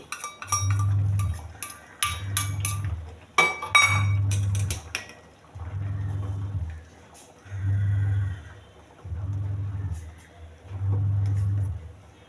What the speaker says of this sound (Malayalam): അരപ്പിട്ട് കൊടുത്ത് നന്നായിട്ടൊന്ന് ഇളക്കി.